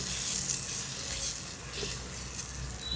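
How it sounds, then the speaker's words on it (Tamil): Urad dal batter stirred continuously in a pan over a medium flame, with a constant close sizzle and soft scraping of the spoon. "கைவிடாமல் கிளறுங்க தீயை வந்து மீடியம் ஃப்ளேமில் வச்சுக்கோங்க"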